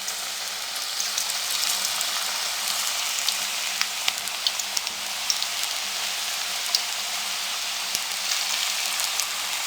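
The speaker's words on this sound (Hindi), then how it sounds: "मीडियम फ्लेम पे हम पकोड़े फ्राई कर लेंगे।" Small vegetable pakoras frying in hot oil over a medium flame, giving a steady, even sizzle with fine crackling pops throughout and no voices.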